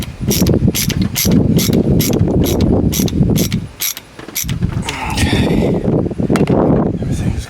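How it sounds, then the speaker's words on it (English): A Milwaukee 14-in-1 ratcheting driver tightens the mass airflow sensor screws on a 2010 Cadillac Escalade, producing close, loud, rapid ratchet clicks in two bursts with a brief pause between them. "Now we just got to tighten down this mass airflow sensor."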